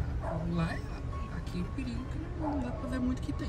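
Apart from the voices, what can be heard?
dog barking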